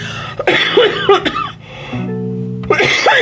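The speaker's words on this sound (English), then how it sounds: "just started coughing" Several harsh coughs close up, a quick cluster followed by a brief pause and another cough, with no talking.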